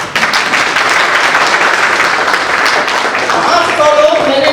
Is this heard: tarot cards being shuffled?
no